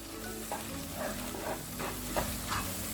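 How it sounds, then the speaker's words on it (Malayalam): Sliced onions softening with salt and curry leaves in a pan for Chettinad chicken curry, with a soft steady sizzle broken by several short scraping stirs. "സവാള ഒന്ന് വാടി വരുമ്പോൾ ഒരു തണ്ട് കറിവേപ്പില ഇട്ട് കൊടുക്കുക"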